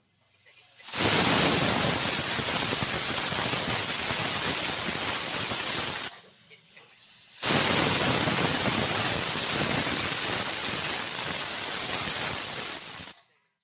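Pressure cooker whistling twice, releasing steam while lentils cook with water and turmeric: two long, loud, steady hissing bursts of several seconds each, split by a short quiet gap.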